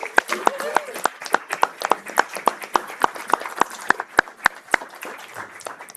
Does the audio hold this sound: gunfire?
no